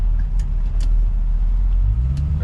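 A Mercury Cougar XR7 cruising on Kansas City streets, a loud continuous low engine and road rumble from inside the car with a few faint clicks over it.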